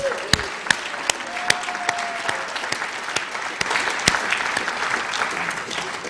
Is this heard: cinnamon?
no